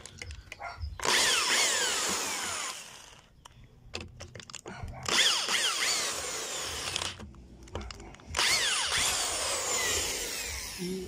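Power drill backing screws out of a Maytag washer during a transmission repair, three long bursts of high whining motor with short pauses between, close and loud, no talking.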